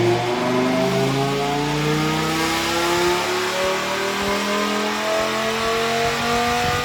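A tuned Dodge Viper with new parts roars on a dyno at the Street to Sand shop, its engine climbing steadily in pitch through a long, loud, sustained rev that holds close and continuous throughout.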